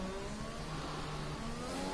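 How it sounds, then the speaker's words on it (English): Formula 1 cars racing at Sochi in an F1 video game, a continuous loud whining engine roar with steadily climbing pitch as the cars accelerate, no talking. "Let's just take a minute to appreciate the sounds"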